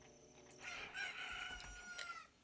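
A rooster crows in the video game Ocarina of Time Randomizer, a single short, bright cock-a-doodle-doo call heard clearly and alone.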